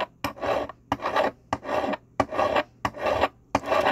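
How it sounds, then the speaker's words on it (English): A coarse hand file rasps back and forth across soldered silverware held in a miter vise, seven even, close strokes separated by brief pauses. "So you're just going to keep filing down."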